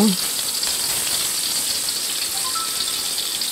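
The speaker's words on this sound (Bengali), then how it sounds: "এ পর্যায়ে মাংস ভেজে নেব" Meat frying in a pan in a home kitchen, a steady loud sizzle and hiss with a brief clank at the start, no voices.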